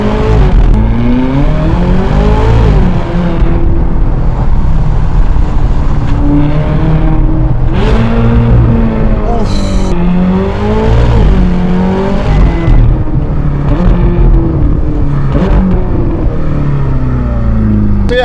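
A Ferrari California with a paddle-shift gearbox pulls hard along a drive, its engine note climbing and dropping repeatedly as it revs through the gears, loud and close throughout with no talking.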